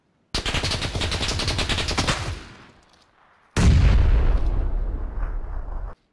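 Gunfire in PUBG (PlayerUnknown's Battlegrounds), two loud sustained bursts of rapid automatic shots, each about two seconds long, separated by a brief lull, close and dominant with no talk over them.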